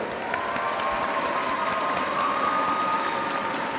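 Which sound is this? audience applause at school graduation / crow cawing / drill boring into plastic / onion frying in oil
audience applause at school graduation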